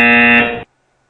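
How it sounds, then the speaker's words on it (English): A single loud, steady electronic buzzer from trading software sounds for about half a second, then cuts off abruptly into silence. "Sorry for the beepers, the buzzers."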